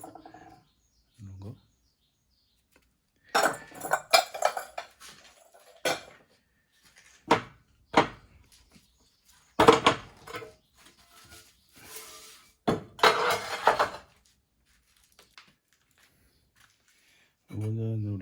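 Ceramic bowls fired at 1250 degrees are unloaded from a pottery kiln, with clusters of close clinks and knocks spread across quiet stretches, occasional rattles and brief speech at the start and end.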